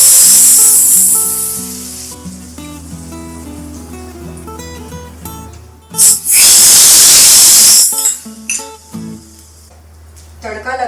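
A loud burst of sizzling hiss erupts for a couple of seconds as spices and chopped garlic hit hot oil for a tempering, then fades back under background music and talk.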